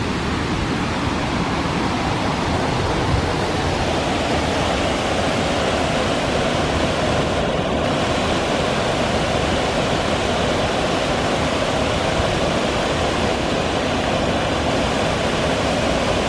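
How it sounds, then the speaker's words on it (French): The Cascade du Morel, a large waterfall in Savoie, roars as a loud, steady, broadband rush of falling water that continues unbroken throughout. "je peux vous dire que c'est pas la petite cascade"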